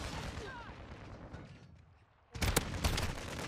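Expedite 12 shotgun fire in Modern Warfare 2: after a stretch of quieter game ambience with a voice, a loud burst of close, sharp blasts breaks out and keeps going for about a second.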